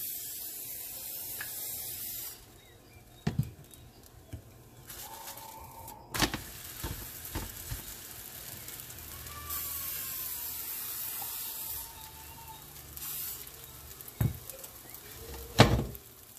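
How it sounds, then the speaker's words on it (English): Oil sprayed from a spray bottle into a preheated pan while cooking poori paratha, heard as several short hissing bursts with clicks of the sprayer, close by against a quiet kitchen background. "Spray some oil."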